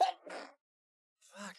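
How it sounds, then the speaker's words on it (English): A single sharp human sneeze, close and loud, followed by a short pause and a brief spoken exclamation. "Hold on, I'm gonna sneeze."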